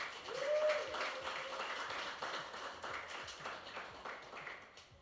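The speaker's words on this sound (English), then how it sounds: "Let's give them a round of applause." Quiet applause from a crowd at a graduation ceremony for the Guam Restoration of Watersheds Conservation Corps cohort, scattered claps with a brief tone near the start, fairly distant and faint.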